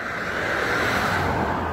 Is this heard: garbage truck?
yes